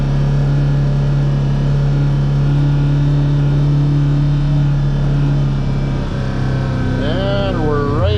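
A Polaris RZR XP side-by-side creeps along at about 5 mph with its differential lock engaged and steering held at full lock, a steady loud engine drone that wavers and whines in pitch near the end.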